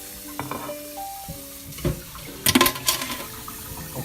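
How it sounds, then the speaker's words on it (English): Dishes get washed after dinner under running water, with splashing, clinks and short bursts of tap flow in a quiet kitchen. "I'm doing the dishes"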